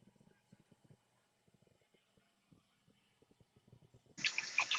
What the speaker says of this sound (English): I'm filling up the cat's water dishes.